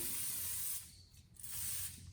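Cooking spray hisses onto a sheet of waxed paper in a kitchen in two close, steady bursts separated by a short pause.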